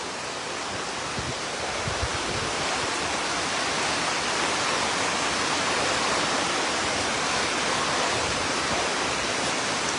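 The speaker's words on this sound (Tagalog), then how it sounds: "Umawas na ho ang dagat." Floodwater rushing through a seaside village in Lemery, Batangas, as the sea overflows and meets the rivers, a loud, steady broadband roar of churning water with no pauses or voices.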